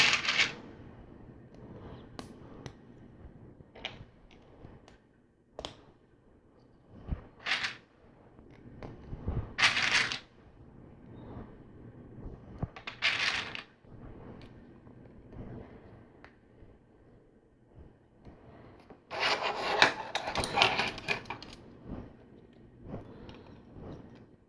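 Small plastic LEGO Technic parts from a heavy lift helicopter set clicking and rattling as pins, axles and lift arms are handled, in intermittent bursts of sharp clicks and snaps close up, with quiet pauses between.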